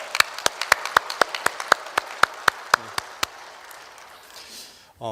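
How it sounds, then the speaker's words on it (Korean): Slow, evenly spaced claps from a church congregation during a Sunday evening service, about a dozen sharp strikes in steady rhythm that stop partway, followed by a brief faint voice at the end. "우리 영광 받으신 하나님께 영광의 박수 함께 올리고 시작할까요?"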